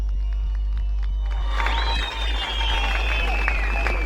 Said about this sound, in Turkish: Kahraman Türk polisine bir yürekten alkış yapalım.